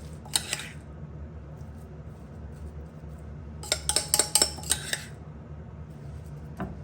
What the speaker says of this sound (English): I'm going to spoon on my sweet potatoes